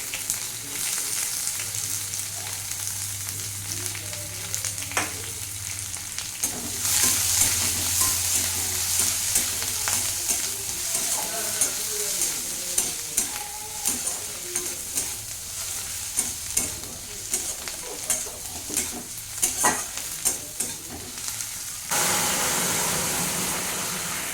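Chopped onion and bay leaf frying in oil in a pan, with a constant loud sizzle and repeated scraping, clattering stirs throughout.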